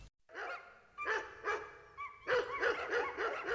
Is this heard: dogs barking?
yes